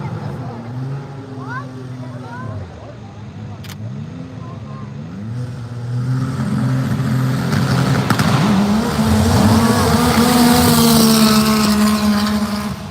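A side-by-side off-road race engine with a stock block at Silverback Off-Road Speedway revs and then climbs to a loud, sustained full-throttle roar, close by, with people talking over the early part.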